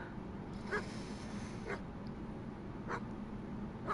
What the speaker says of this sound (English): Oh, okay, so the dog is helping me.